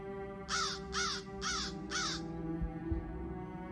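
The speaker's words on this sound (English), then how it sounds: "A very sudden crow cawing." In the horror game Silenced: The House, a crow gives four evenly spaced harsh caws over a low, steady ambient hum, fairly faint and alone.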